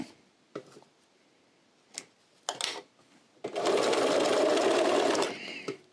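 A Bernina sewing machine runs in a steady two-second burst of rapid stitching after a few scattered clicks and handling noises.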